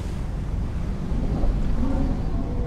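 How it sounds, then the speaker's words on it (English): Ocean waves on a beach in Death Stranding, a steady broadband wash of surf that stays loud and constant throughout, with wind-like rumble underneath and no talking. "Can already hear the waves."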